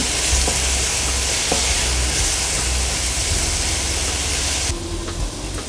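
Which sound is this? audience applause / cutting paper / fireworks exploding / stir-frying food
stir-frying food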